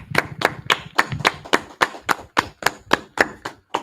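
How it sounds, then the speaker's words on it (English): Steady hand clapping, about a dozen crisp claps in an even rhythm, close and loud with nothing else around them. "I'm gonna clap up, y'all."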